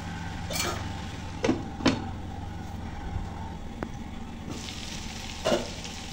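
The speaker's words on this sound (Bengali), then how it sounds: "এখন নেড়ে চেড়ে মিশিয়ে নেব।" Spices with coriander powder and salt are stirred as they fry in a pan for a potato and egg curry. A low sizzle runs throughout, and a few distinct spoon scrapes and knocks sound close by, with no talking.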